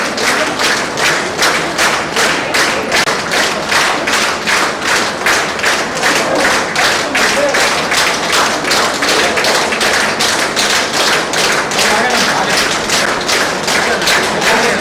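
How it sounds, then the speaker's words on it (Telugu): A crowd of people claps hands in a steady, rhythmic unison beat, loud and close, continuing evenly throughout with no speech. "అందరూ చప్పట్లు కొట్టండి."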